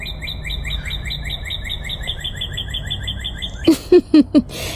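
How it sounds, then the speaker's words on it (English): A songbird chirps outdoors in a steady run of quick, evenly spaced two-note calls that carry on alone, and a few louder, closer sharp sounds break in near the end. "You all hear that bird as I'm talking about birds?"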